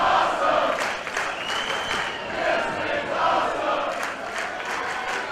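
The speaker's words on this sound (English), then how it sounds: "And the crowd here at the Ultratorium telling you what it's all about." A wrestling crowd at the Ultratorium cheers and shouts in a sustained, fairly distant roar that rises and falls, with scattered claps and whoops.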